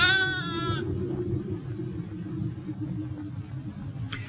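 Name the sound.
sheep bleating in snowy winter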